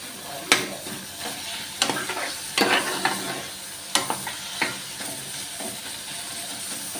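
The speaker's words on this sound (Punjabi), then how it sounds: "ਪਿਆਜ਼ ਭੁੰਨ ਕੇ ਜਮਾਂ ਹੀ ਥੋੜੇ ਜਿਹੇ ਹੋ ਜਾਂਦੇ ਨੇ" Onions fry in a pan for chana dal, with a steady sizzle broken by several sharp scraping stirs of a spoon against the pan, close and loud, no voices.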